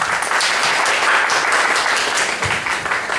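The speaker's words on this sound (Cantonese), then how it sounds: "俾掌聲上帝。" Audience applause at a church tea gathering, a dense steady clapping from a room full of people, fairly loud and sustained for the whole stretch, with a soft thump near the end.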